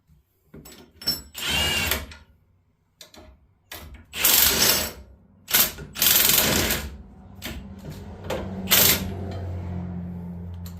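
A hand ratchet clicks in short bursts while tightening air bag mounts on a 2023 Ford F-150, the quick ratcheting runs loud and close, separated by brief pauses, with no voices.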